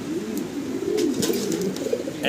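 Fancy pigeons, male and female, coo in low, rolling calls steadily at close range, with a few faint rustles and clicks in the background and no talking.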